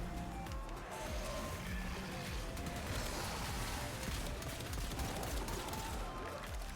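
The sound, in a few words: pistol gunfire in video game Warframe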